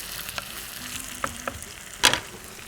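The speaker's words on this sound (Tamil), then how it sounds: "இதில் ஒரு கை வெங்காயம் போட்டுடலாம். போட்டால் வதக்கலாம்" A handful of onions sautéing in a pan with curry leaves and dried red chilies, a soft continuous sizzle broken by a few sharp stirring clinks, one louder scrape near the end.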